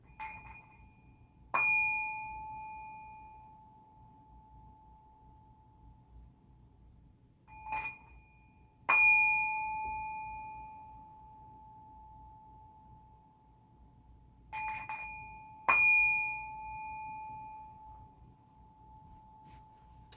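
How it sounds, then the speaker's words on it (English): Notification bell chime ringing three times, each a bright clean ding with a long sustained tone fading slowly, evenly spaced and alone against near silence. "and the notification bell."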